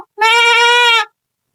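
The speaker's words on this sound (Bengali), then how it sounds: "ছাগল চিল্লাচ্ছে কেন রে?" A single goat bleats once, loud and close, a wavering cry lasting about a second with silence on either side.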